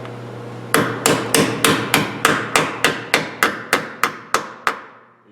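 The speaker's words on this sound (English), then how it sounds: "use your wheel weight pliers and just hammer it on" A steady string of about fifteen sharp metallic hammer taps drives a wheel weight onto a tire rim using wheel weight pliers, evenly spaced and close, with no talking.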